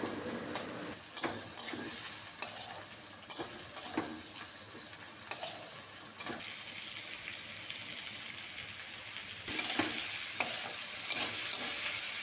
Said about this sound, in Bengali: কড়াতে সর্ষের তেল দিয়ে তেল গরম হলে পরে উপকরণগুলোকে একসঙ্গে দিয়ে নুন হলুদ দিয়ে ভেজে নেব